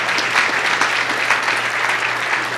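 Applause from an audience at a Hopkins County Chamber of Commerce banquet, a dense steady wash of many hands clapping at once, moderately loud and filling the room without any speech over it.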